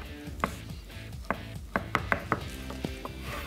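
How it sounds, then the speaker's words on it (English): A knife cuts through a slab of cured Canadian bacon on a board, making a series of about ten sharp, uneven knocks and taps close to the microphone, quiet overall with no talking. "Now, slice up this Canadian bacon. And obviously you're just gonna cut it this way."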